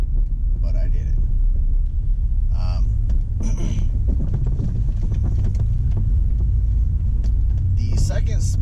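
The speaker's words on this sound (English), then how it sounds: "But, yes, I'm driving." A car is driving, heard from inside as a steady low rumble of engine and road noise that continues throughout. A person talks over it.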